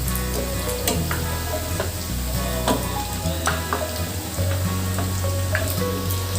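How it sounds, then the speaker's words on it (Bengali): Jalebi spirals fry in hot oil with a dense, continuous sizzle, sprinkled with sharp pops and crackles, close and steady throughout with no talking. "একটু লাল লাল করে ভেজে নেব।"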